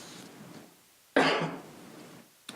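A single sharp cough in a board meeting room, loud and abrupt, followed by quiet room tone and the start of another short cough at the end.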